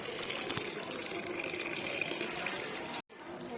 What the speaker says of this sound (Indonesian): Air terjunnya sangat megah sekali dan banyak airnya.